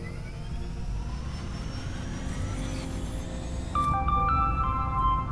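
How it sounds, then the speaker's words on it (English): Spaceship generator and onboard systems powering up in the video game Stardrop: a steady low engine-like hum with rising tones, then a brighter cluster of electronic beeps and chimes near the end. "I can see the major systems coming back online"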